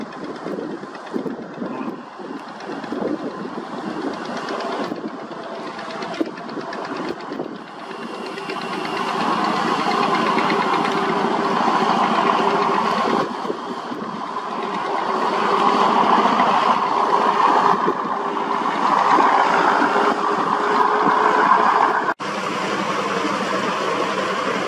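Fishing boat engine chugging steadily at sea as the vessel passes a net-fishing boat, a continuous mid-loud drone with wind buffeting the microphone and the tone rising and swelling over time.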